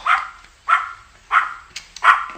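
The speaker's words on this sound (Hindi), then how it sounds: "कम से कम अपने कुत्ते का मुंह बंद तो करो।" A dog barks four times in a steady, evenly spaced rhythm, each bark loud and close with a short fall-off, in a quiet indoor scene from a Hindi-dubbed Hollywood film.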